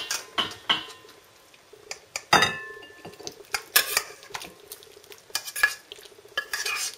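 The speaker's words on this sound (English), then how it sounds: "here I have the beans in tomato sauce, and I'm going to dish them out" A spoon scrapes and clinks against a metal pot while beans in tomato sauce are served out, giving irregular sharp knocks and scrapes, close and fairly loud, with no talking.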